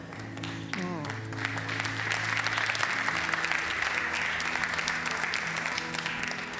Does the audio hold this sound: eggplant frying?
no